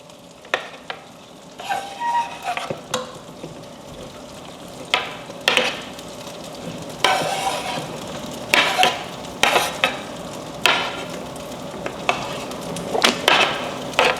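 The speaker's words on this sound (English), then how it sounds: "now we're gonna add our onions to it" Sliced onions go into a pan for a homemade cube steak and rice dish, frying with a steady sizzle while repeated stirring and scraping utensil sounds come and go close by.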